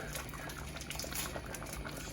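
Jamaican stew peas with coconut milk, scallion, thyme and pepper simmer in a pot, a dense steady bubbling and burbling that carries on without a break.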